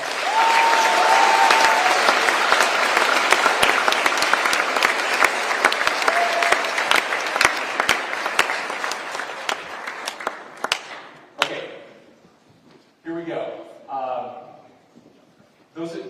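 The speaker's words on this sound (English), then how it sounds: "Let's give them a round of applause." Students applauding in a room during a visit by Utah's governor in Iron County, dense clapping for about eleven seconds that fades out, followed by someone speaking.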